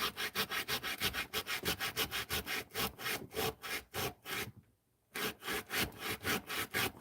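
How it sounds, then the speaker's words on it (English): Rhythmic back-and-forth sanding strokes on a small custom figure piece, loud and close, a steady run of rasping passes with a brief pause before the scrubbing resumes. "Sanding down this piece here."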